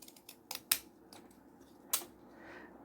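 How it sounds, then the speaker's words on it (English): Quiet snips of scissors cutting paper close by, a few sharp clicks spaced irregularly against a soft background, the scissors jamming. "the scissors keep jamming"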